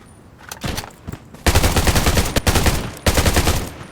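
An MP submachine gun fires in Undawn, a few quick shots first, then long loud rapid bursts close by, broken by brief pauses, with no talk.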